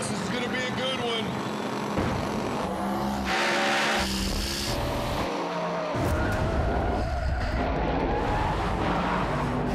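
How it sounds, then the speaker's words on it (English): A race car spins out on a dusty Arizona dirt track, its tires skidding and squealing amid roaring engine noise, loud and close, with a sharp surge partway through. "I spun out and almost crashed my car"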